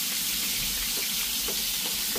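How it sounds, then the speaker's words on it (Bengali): Chicken frying in a pan makes a steady, close sizzle with soft crackles and stirring throughout, and no one talks. "আর এই যে চিকেনগুলা ভাজা হয়ে যাচ্ছে"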